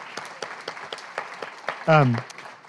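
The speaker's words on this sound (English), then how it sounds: "So a round of applause to welcome Kimberly to Tucson." Sparse, scattered clapping from a small poetry-reading audience welcoming a poet, fairly quiet and uneven, with a short voice cutting in partway through.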